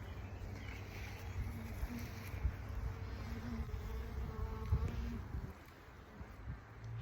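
A dense, steady buzz of many honeybees droning together close by in an opened hive during inspection, continuous and fairly quiet, with occasional louder passes.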